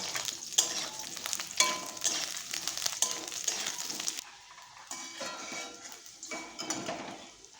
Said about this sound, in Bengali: একই রকমভাবে বেগুনটাও দিয়ে দিলাম তারপর নাড়িয়ে চাড়িয়ে একটু ভেজে তুলে রাখবো